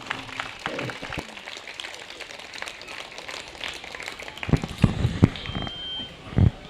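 Applause welcomes a guest at a Brahma Kumaris gathering in a Delhi park, with a thin, uneven patter of clapping and a few louder close claps near the end.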